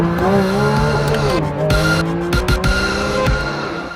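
Porsche 911 road car driven hard around a racetrack, its engine note rising and falling loudly and continuously with tire squeal through corners and gear changes, no talk over it.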